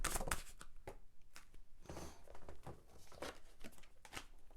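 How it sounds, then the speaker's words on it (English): Tarot cards spill and scatter, giving a quick run of close papery slaps and rustles, with a brief burst at the start and softer shuffling after. "Oh, dropping all of my cards."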